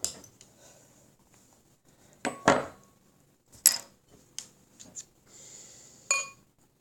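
A bottle of Beersel Lager being opened: a sharp cap release and several clinks of glass and metal, separated by quiet gaps, close and fairly clear with no talk.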